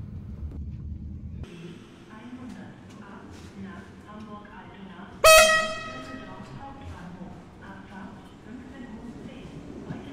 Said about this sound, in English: Apologies for the loud honking noise.